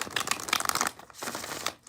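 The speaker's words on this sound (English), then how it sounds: "I'm going to do 3 shuffles." A deck of tarot cards is shuffled by hand in two quick bursts of crisp riffling and crinkly paper flutter, close and fairly quiet, with no talking over it.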